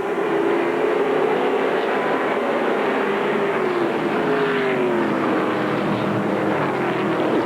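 Race trucks lap Nashville Speedway in a 1999 Greased Lightning twin 100 event, a dense continuous engine roar with pitch slowly sweeping as the pack passes, steady and loud with no talk.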